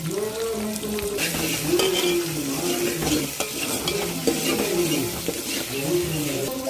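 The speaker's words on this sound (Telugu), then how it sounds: "అల్లం వెల్లుల్లి పేస్ట్ వేసుకుందాం అండి" Ginger garlic paste frying in a pan, a constant loud sizzle with scraping stir strokes, close up, over a low tonal hum.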